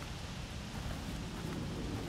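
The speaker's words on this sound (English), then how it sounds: "surround sounds kicking at thunder" In the horror game The Evil Within, steady rain hisses with a low thunder rumble beneath it, a continuous, fairly quiet storm bed with no speech.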